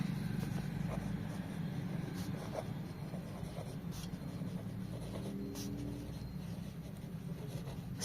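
Handwriting on paper while working an income tax retirement calculation: faint, scattered scratchy pen strokes sit beneath a steady low background hum for about eight seconds.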